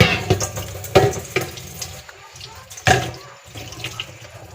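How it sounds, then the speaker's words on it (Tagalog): Running water from a tap splashes over a rice cake mold being washed in a sink, giving a steady hiss broken by clattering handling and louder splashes as it is rinsed, with no voices. "maghugas na ng binili kong hulmahan"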